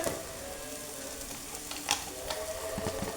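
Capsicum sizzling in a frying pan while a white chickpea curry is cooked, a steady hiss of hot oil with a few light stirring clicks, close and moderately quiet with no talk.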